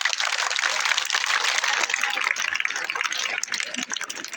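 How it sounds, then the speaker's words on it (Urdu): An audience clapping at a school annual results ceremony at GHS Sarri, a dense, continuous burst of applause that swells and then thins slightly toward the end, fairly loud and close. "تالیاں بجا"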